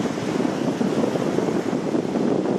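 Strong, gusty wind roars steadily across an open fishing pond during a hurricane-force blow, a loud continuous rush buffeting the microphone with no voices heard.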